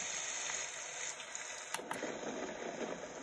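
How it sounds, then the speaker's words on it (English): Steady broadband hiss of a simulated rain setting on a Homedics SoundSleep white noise machine, continuous and fairly even, with a couple of brief clicks partway through and no talking. "So that would be the sound of rain."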